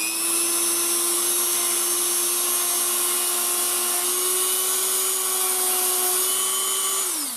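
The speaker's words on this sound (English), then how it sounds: "And we're going to give it a little polish." A soft felt polishing wheel on a power tool whines at a steady high pitch while polishing a Ruger GP100 revolver sear, running continuously and loud before the motor pitch drops slightly at the end.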